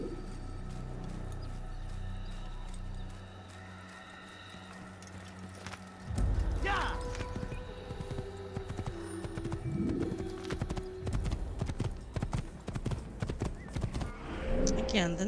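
Horse hooves clip-clopping in Assassin's Creed, first faint, then a whinny and a louder run of rhythmic hoofbeats, with someone talking over the game sounds throughout.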